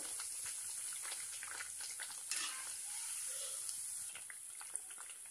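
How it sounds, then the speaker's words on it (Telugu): Bread pieces frying one by one in hot oil for double ka meetha, a steady close sizzle with faint bubbling and occasional light taps, no voices over it. "చూడండి, ఆయిల్ వేడెక్కిందండి. మనం ఇవి ఒక్కొక్క పీస్ మంచిగా వేయించుకుందాం."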